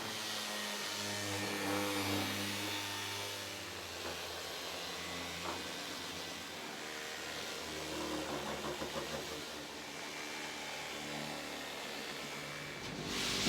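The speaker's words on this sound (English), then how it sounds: "Now we're moving up to 120 grit on the palm sander," Palm orbital sander working wood at 120 grit, a steady mid-pitched motor whir with a faint buzzing hiss that holds level and unbroken throughout, close by with no talking.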